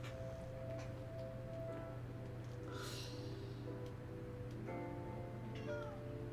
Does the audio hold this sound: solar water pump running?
no